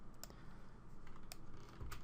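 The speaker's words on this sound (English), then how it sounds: "run the installer itself by typing the following command and pressing enter" Quiet computer keyboard typing of a command, a few light key clicks spread over two seconds with no talk.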